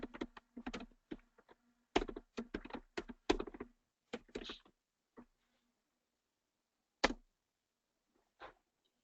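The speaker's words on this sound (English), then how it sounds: "I hear typing." Clicky keystrokes on a computer keyboard come in quick bursts, then slow to a few isolated taps separated by silence, heard near and fairly quiet.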